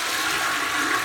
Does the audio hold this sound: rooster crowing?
no